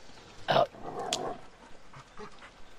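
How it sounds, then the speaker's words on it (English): A dog in a scene from The Walking Dead lets out a short, sharp whimpering yelp, then a low rumbling growl, fairly close and alone with no talking. "Bad dog."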